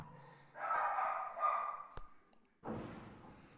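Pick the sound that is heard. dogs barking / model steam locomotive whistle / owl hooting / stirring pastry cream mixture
dogs barking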